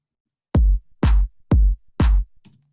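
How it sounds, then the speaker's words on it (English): A simple tech house drum loop sounds alone: four evenly spaced, punchy kicks, each layered with a bright clap, then a faint tail. "So now we have the kick and the claps"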